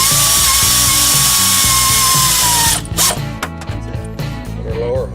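A power tool whirs steadily as it runs radiator screws into plastic on a 1998 Honda Accord, a close, loud motor whine that stops about halfway, followed by clicks, rattles and another short burst.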